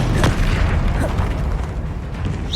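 A Confringo spell explosion from Hogwarts Legacy bursts loud and close, a dense rumbling boom that fills the whole moment with sustained crackling blast noise.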